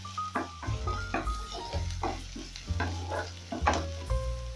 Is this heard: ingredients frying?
yes